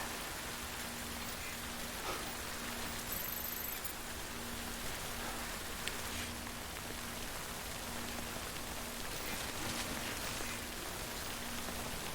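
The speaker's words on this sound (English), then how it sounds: "Well, rain doesn't look like it's letting up." Steady rain in the game Death Stranding patters and hisses continuously at a low level, with no voices and only a faint underlying hum.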